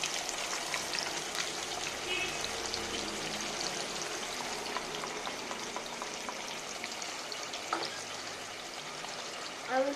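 Tomato gravy paste fries in hot oil with a soft, steady crackling sizzle, fairly quiet and even throughout.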